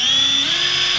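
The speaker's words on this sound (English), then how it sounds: "drill the rest of the holes" Power drill boring holes in an aluminum wing for an E30 BMW track car, a loud continuous high-pitched whine close up with a slight pitch dip midway.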